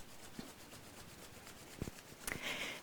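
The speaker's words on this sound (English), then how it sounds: "rubbing the hands once again" Palms rubbing together in a quiet room, a soft steady friction hiss that ends in a brief brighter flurry of rubbing.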